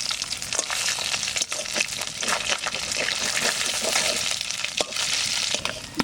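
Small river fish fry in a pan with a dense, continuous sizzle and crackle, close and fairly loud, with occasional clicks and scrapes of handling but no voices.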